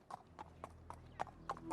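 Horse hooves clip-clopping in a steady, evenly spaced rhythm as a prince rides out toward a forest to hunt, moderately close and heard alone over a faint low hum.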